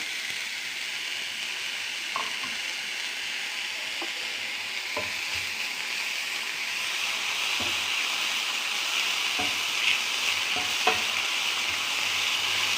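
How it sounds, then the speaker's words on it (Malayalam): Chopped amaranth greens stir-fried in a pan for thoran, a loud even sizzle with scattered stirring knocks of a spoon against the pan, no speech. "നമുക്ക് അരിഞ്ഞു വെച്ച ചീര അങ്ങോട്ടിടാം"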